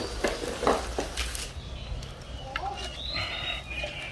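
A spoon scrapes and stirs thickened pad thai sauce with fried shallots in a pan with a light sizzle, close by, while someone talks.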